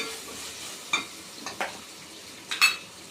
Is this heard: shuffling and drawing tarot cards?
no